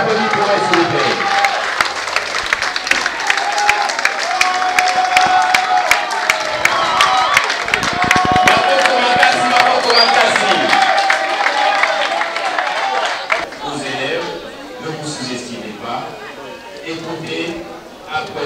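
Arena audience applauding and cheering at a Paris Grand Arena event, dense rapid clapping with shouts for about thirteen seconds before fading into crowd murmur and talk.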